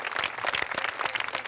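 A crowd of pilgrims at Lourdes applauds the Pope, a dense burst of many hands clapping close and loud for a brief moment with no voices over it.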